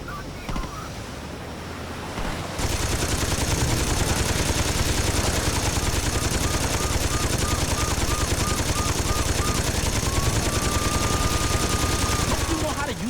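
A mounted machine gun in the video game Saints Row 2 opens up after a short quiet moment, then roars in sustained, dense rapid fire that stays loud and constant to the end.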